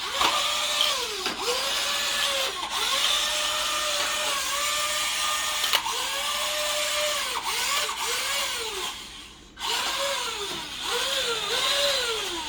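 The small electric motor of a WPL C44K RC truck whines steadily at high pitch, vacuum-like, repeatedly revving up and down in short bursts, with a brief cutout near the end; no talking.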